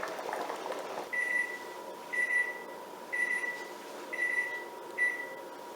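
A kitchen timer beeps in five evenly spaced bursts after chili has simmered uncovered for 15 minutes on the stove, the electronic tone clear and steady over a quiet kitchen hum.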